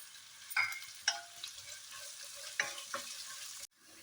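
Onions frying with a pinch of salt in a pan for Kerala-style egg curry, a steady soft sizzle with a few sharp stir and clink sounds, close by and moderately quiet, no talking.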